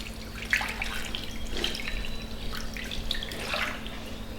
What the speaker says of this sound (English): Put in a reasonable amount of water in the bottom.